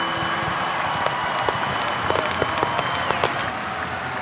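Crowd cheering and applause at a Tampa Bay Rays baseball game after Josh Lowe's home run, with fireworks going off, a steady roar of noise broken by sharp pops and claps.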